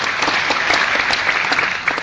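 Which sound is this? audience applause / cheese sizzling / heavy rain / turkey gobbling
audience applause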